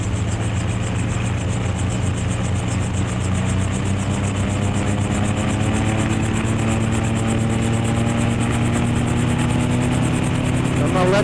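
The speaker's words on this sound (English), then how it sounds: "I can hear the rotor whisper." Experimental gyroplane on the runway with engine running and rotor spinning up, a loud continuous droning hum with rhythmic rotor pulsing that rises slightly in pitch toward the end.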